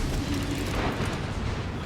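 A battleship's salvo lands in World of Warships, German ship Hannover firing, a dense rumbling roar of impacts and blasts that fills the moment with heavy low-end noise, loud and continuous.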